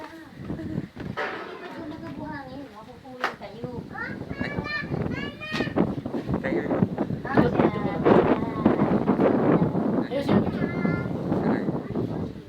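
Strong gusts of wind buffet the microphone with constant low rumbling under dark clouds in San Rafael, Bulacan, while children and adults talk and shout throughout.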